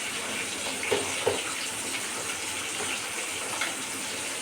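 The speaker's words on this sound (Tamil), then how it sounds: "குழம்பு நல்லா கொதிச்சிட்ருக்கு." Fish curry (kuzhambu) with sali fish boiling in a pot, giving a steady bubbling simmer with a few soft pops standing out, close and moderately quiet, with no voices.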